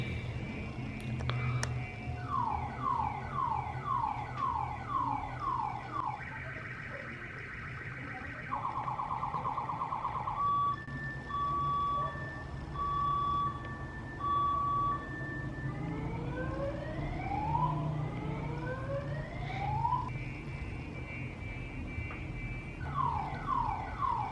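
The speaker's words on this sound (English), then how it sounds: "Damn this car alarm at this moment." A car alarm cycles through its patterns: rapid repeating chirps, steady tones, then rising sweeps, loud and continuous over low traffic rumble.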